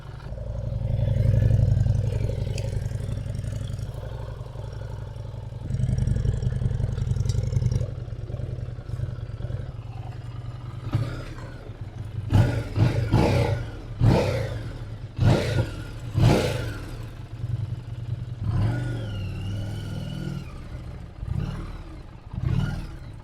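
A cheap repossessed Harley-Davidson motorcycle bought at auction idles with a deep, uneven chugging rumble, joined partway through by sharp clanks and knocks from nearby work, steady and fairly close.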